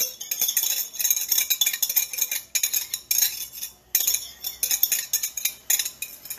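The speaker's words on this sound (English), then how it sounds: "I'm just running the whisk around and not scraping the bottom" A whisk swirls around an Instant Pot of warm milk without scraping the bottom, producing steady, close metallic clinking and rattling strokes against the inner pot, with brief pauses between bursts and no talking.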